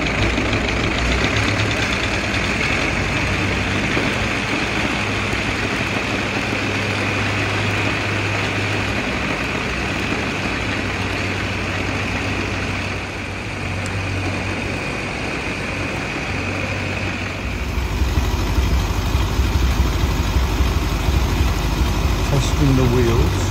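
Old 1909 Ford Model T engine running steadily close by, a continuous rough mechanical chug with a slipping fan belt, growing louder and deeper near the end, with someone talking over it.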